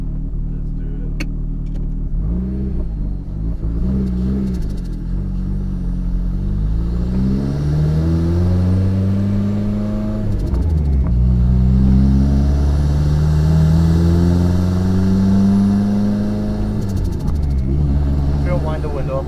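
A Nissan S13 drift car starts up and drives off. Its mid-pitched engine rumbles and revs in repeated rising and falling sweeps, loud and close, while voices talk in the cabin.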